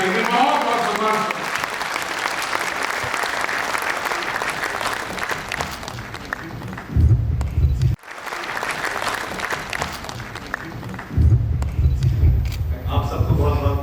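Applause from an audience at a Hindi kavi sammelan, a broad clapping wash that rises twice in louder bursts, with speech running over it through much of the stretch.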